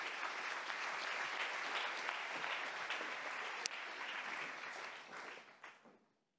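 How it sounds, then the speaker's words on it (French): Audience applause welcoming a keynote speaker at an economic inclusion summit, sustained many-handed clapping from a large room that gradually dies away toward silence. "Permettez-moi de l'accueillir, on peut l'applaudir."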